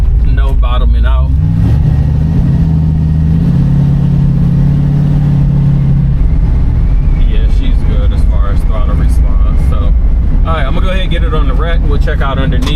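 A 1967 Ford Mustang accelerates on the road, its engine swelling into a loud, rising rev heard from inside the car before easing back into a steady drone, with someone talking over it at the start and end.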